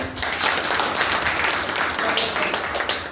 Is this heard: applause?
yes